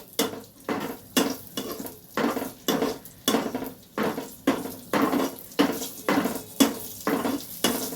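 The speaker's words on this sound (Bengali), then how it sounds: "এই কাজু কিশমিশ আমন্ড দেখো এই তিনটেই আছে, এগুলো আমি এতে একটু ভেজে নেব" Cashews, raisins and almonds fry lightly in a pan while a spoon scrapes and stirs them in steady, regular strokes about every half second, with a soft sizzle underneath throughout.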